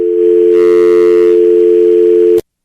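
A telephone dial tone from a studio phone device, a loud steady electronic hum held for about two seconds, briefly joined by a higher layered tone, then cut off abruptly into silence.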